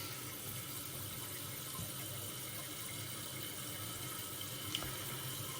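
Toilet tank refilling with water pumped from a well, a steady, faint hiss of running water that holds constant throughout with a soft trickle underneath.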